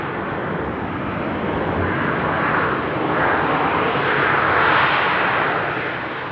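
A fixed-wing airliner roars steadily on approach to a rainy Amsterdam airport, a loud, broad engine rumble that swells slightly toward the end, with no voices over it.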